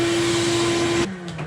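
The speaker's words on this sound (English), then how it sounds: "When working with carbon fiber, a good shop vac is essential" A shop vac sucking up carbon fiber debris, a loud close steady whine with a strong motor hum that cuts off abruptly about two-thirds through and leaves a fading wind-down.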